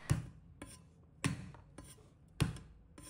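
Garlic cloves and a piece of ginger smashed flat with the side of a kitchen knife on a cutting board, giving three sharp, close thumps at a steady pace with quieter knocks between.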